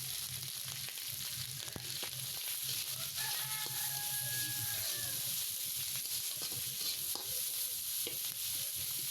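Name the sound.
frying and stirring prawns with onions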